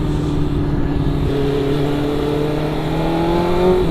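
Lightweight motorcycle engine cruising on a long highway ride, a continuous humming drone whose pitch climbs gradually as the bike accelerates, close and steady with road and wind noise.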